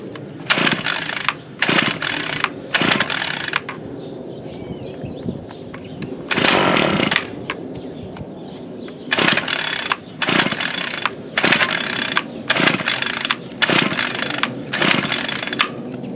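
Ryobi RY28121 26cc trimmer with tiller cultivator attachment: a small two-stroke engine running close by and revving in repeated sharp bursts between lower idling stretches, loud and uneven throughout.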